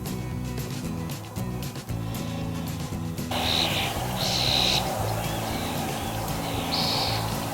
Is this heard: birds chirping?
yes